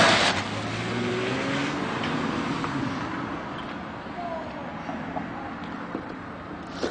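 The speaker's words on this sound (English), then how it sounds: "Declan just drove away" A car pulling away and driving off, its engine hum gradually receding and fading under a steady wash of background noise.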